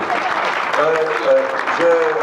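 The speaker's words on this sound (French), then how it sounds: "Allez-y, allez, on va l'applaudir." Applause for a town mayor at a public gathering in Victoriaville, Quebec, a crowd clapping steadily at close range with voices and tonal sounds mixed through it.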